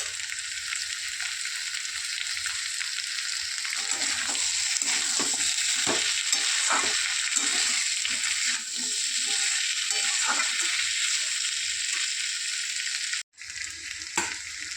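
Mixed vegetables fry with spices in a pan for fish-head panchmishali sabji, a steady dense sizzle with intermittent stirring scrapes and clinks, close and continuous, with a brief drop near the end.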